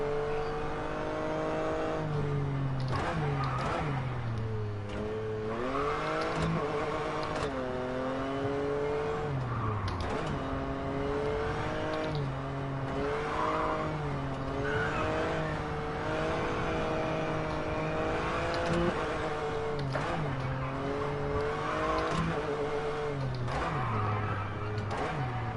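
Rally car engine in the WRC10 racing video game, revving steadily with repeated upshifts and downshifts across a long stretch, constant and prominent, with tire skids.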